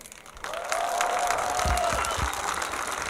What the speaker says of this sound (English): They are clapping because they are really happy.